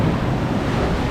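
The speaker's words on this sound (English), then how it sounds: "these waves are smashing up into this cliff here" Ocean waves smash against a cliff at high tide on a tropical shore, a loud, close, continuous roaring surge mixed with heavy wind buffeting the microphone.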